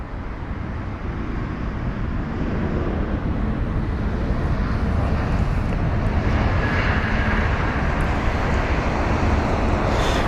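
A British Airways Airbus A320neo at London Heathrow, a loud continuous jet engine roar that holds steady and builds slightly, heard alone with no talking.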